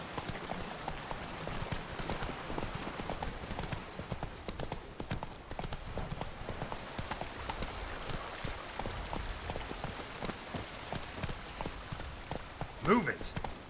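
Hooves clip-clop steadily at a riding pace in The Witcher 3, a continuous rhythmic patter close by with a light rain-like texture, and a brief louder knock near the end.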